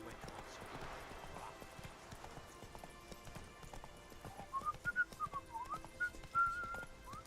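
Roach, the horse in The Witcher 3, moves at a gallop with a quick, even clip-clop of hooves. A whistled melody joins partway through and grows louder toward the end.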